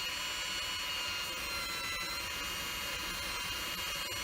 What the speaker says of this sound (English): This is a stainless steel Noveski barrel, so it'll probably drill a little easier.